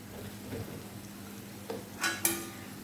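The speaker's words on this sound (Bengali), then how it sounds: "বাজার হলুদ মরিচটা আমি ভালোভাবে কষিয়ে নেব" Turmeric and chili being sautéed with potato in a pan, a low steady sizzle with spoon stirring and a few sharp metallic scrapes and clinks against the pan.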